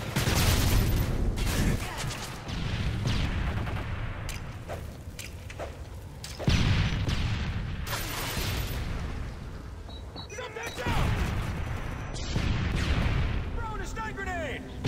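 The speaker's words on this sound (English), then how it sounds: "Throwing a stun grenade." A stun grenade going off in a video game amid dense, continuous battle noise, with repeated heavy booms and gunfire bursts that stay loud throughout and sharp blasts near the middle.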